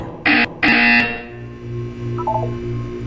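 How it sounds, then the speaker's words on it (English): A harsh electronic buzzer in Portal 2 sounds in two or three loud, close bursts, then fades into a low pulsing hum with faint synthetic tones. "When you hear the buzzer, look up at the ceiling."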